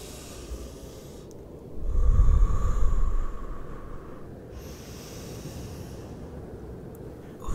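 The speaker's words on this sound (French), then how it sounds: "Elle reprend sa technique de respiration, ferme les yeux, les mains sur son ventre." A woman's slow, controlled breathing exercise, eyes closed and hands on her belly: one deep, close inhalation swells for a couple of seconds, then fades into quiet, soft breathing against a faint hiss.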